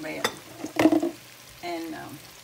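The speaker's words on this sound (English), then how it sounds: "As I stir them now, I'm just going to leave them alone for a little bit." Green tomatoes coated in flour frying in a pan over medium heat, with a few short stirring scrapes and a soft sizzle, near and moderately loud.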